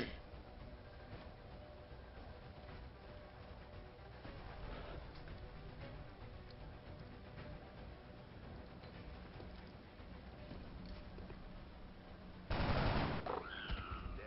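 In the XCOM strategy game, a single sharp burst of gunfire cracks out loudly near the end after a long stretch of quiet, muffled ambience.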